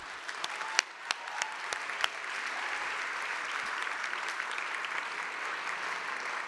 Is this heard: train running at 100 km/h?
no